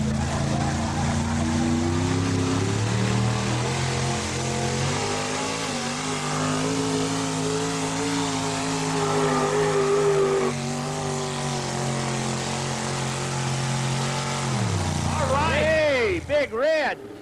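A four-wheel-drive truck at a 1991 Arcola truck pull roars at high revs in a long, sustained drone that wavers and then drops off near the end, while an announcer talks over it.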